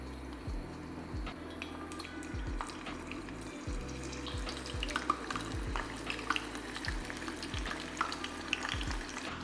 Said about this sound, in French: mon huile est chaude, donc là on va passer à la friture